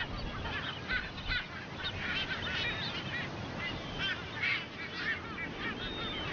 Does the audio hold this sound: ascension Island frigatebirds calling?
yes